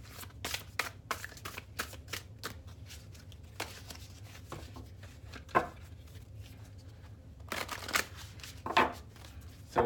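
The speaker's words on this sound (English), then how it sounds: "We're going to shuffle in this 10 of Wands." Tarot cards are shuffled in quick, crisp riffles that come in repeated bursts, close and fairly quiet, with short pauses between them and no talking.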